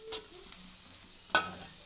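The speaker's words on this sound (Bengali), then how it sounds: "সবগুলো মাছ আমি এরকম করে ভেজে নেব" Pieces of bhetki fish frying in hot oil, a faint continuous sizzle broken by two sharp crackling pops, close and quiet.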